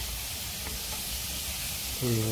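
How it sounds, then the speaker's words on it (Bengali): Pieces of deshi chicken drop into frying spices in a pan, giving a steady close hiss and sizzle throughout, with a short voice entering at the very end. "এই পর্যায়ে আমি চিকেনগুলোকে দিয়ে দেবো।"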